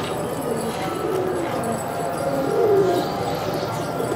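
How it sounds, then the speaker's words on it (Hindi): Gola pigeons in Atif Aslam's rooftop loft, cooing low and steady amid constant outdoor background noise, with a brief louder coo near the end. "ये आतिफ असलम के कबूतर हैं"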